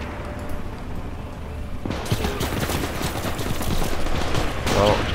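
Gunfire in the World War II game Gates of Hell: Ostfront, with a dense crackle of shots and impacts starting abruptly after a quiet stretch and building into a sustained barrage.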